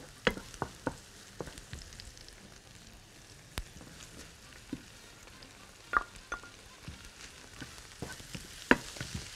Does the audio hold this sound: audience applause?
no